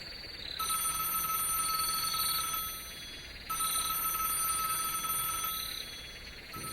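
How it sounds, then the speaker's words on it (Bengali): A telephone ringing in a room at night in a horror audio story, with two long electronic ring bursts separated by a short pause, steady and moderately loud over a faint hiss. "রাত দুটো নাগাদ হল ঘরে ফোন বাজছে"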